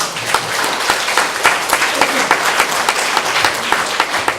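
A church congregation applauds at a 2014 thanksgiving service for an education hall dedication and deacon ordination, sustained, even clapping filling the hall with a few sharper claps standing out.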